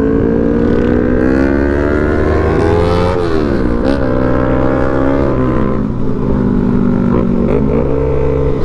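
A Suzuki Raider motorcycle crosses a river with its engine running loud and close the whole time. The revs rise and dip with strain, and water churns around it.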